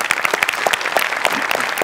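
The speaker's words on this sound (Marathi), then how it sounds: "जोरदार टाळ्या" Loud audience applause fills a comedy stage show after a dance and kabaddi-themed performance, dense clapping sustained evenly throughout with no talk.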